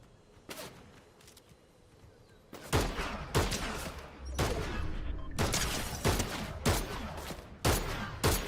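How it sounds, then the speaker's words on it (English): Bursts of gunfire in Fortnite crackle in repeated volleys, sparse at first and then dense and loud, several broadband blasts in quick succession with short gaps between them. "Someone shooting from behind me too?"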